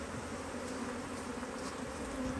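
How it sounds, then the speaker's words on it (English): Angry honeybees buzzing around an opened hive during an early spring inspection in swarming season, a continuous dense drone of many bees close by with slight wavering in pitch. "And they're a bit angry, they're not normally angry bees"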